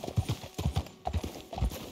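Horse hooves clip-clopping at a steady trot in the video game Red Dead Redemption 2, several quick double beats close by, with faint background hum.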